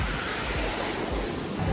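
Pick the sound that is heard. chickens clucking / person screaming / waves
waves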